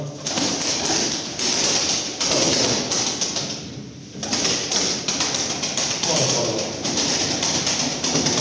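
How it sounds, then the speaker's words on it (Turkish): A male game pigeon flapping its wings in rapid bursts of clattering, slapping beats with short pauses between them, while someone talks over the sound. "Biraz kanat sesi duyalım böyle şu erkeğimizde"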